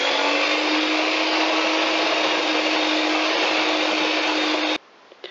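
Electric mixer kneading yeast dough with oil and yeast-milk mixture, a loud steady motor whir with a constant hum that runs unbroken for several seconds, then cuts off abruptly into quiet.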